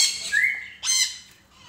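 Crows give two harsh, close squawks in quick succession, loud and clear over an otherwise quiet background.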